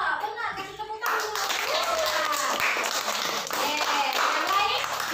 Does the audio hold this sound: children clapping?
yes